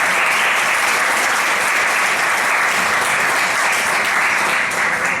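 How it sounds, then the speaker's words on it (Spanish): Loud, sustained applause from a conference audience fills the hall, dense and steady without a break from start to finish. "Un fuerte aplauso."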